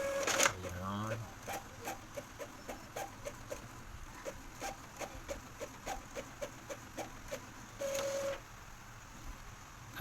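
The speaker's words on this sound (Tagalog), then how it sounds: "Ang sa ganun, mag-response itong printer natin." A printer's mechanism whirs and clicks in a steady, regular rhythm of short pulses as it prints a document, with a couple of brief electronic beeps.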